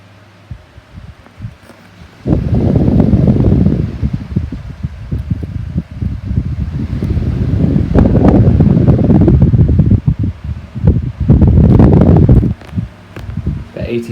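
A 1980s Micromark 12-inch desk fan runs on medium with a steady, close whooshing airflow that swells and eases in level, with brief quieter gaps and some handling noise.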